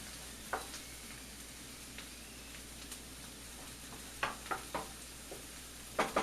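Chopped onion and rice, lightly salted, fry softly in a pan for shrimp fried rice: a faint, even sizzle with a few sharp spatula scrapes, clustered near the end.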